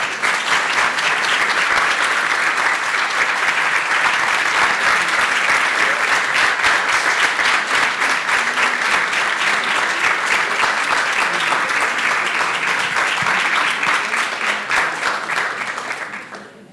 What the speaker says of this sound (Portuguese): quero dar palmas para ela, gente